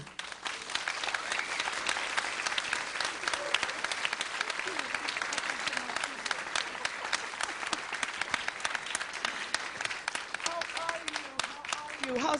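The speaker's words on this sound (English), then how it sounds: "please receive our keynote speaker with a warm applause, Dr. Pennie Murray" Conference audience gives a long, warm round of applause welcoming keynote speaker Dr. Pennie Murray, a dense sustained crackle of many hands clapping at an even level throughout, with faint murmurs beneath.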